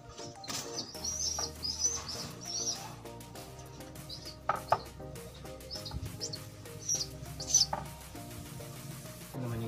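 Pigeon chicks give thin, high chirping calls in short scattered bursts, close but soft, over light handling noises and a low background hum.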